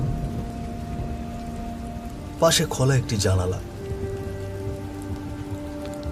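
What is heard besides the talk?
drizzling rain sound effect in a story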